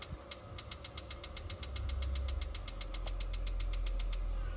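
A water heater's igniter tries to start on old batteries: a rapid, regular train of sharp clicks, about twenty in a row, over a low steady hum that grows slightly stronger partway through.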